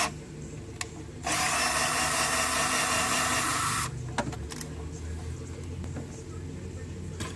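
Steady high-pitched whir of a power tool cutting 1/4 NPT threads into a catch can fitting for a GEN5 Camaro V8, running loud and continuous for about two and a half seconds, then stopping, followed by faint clicks and handling noise.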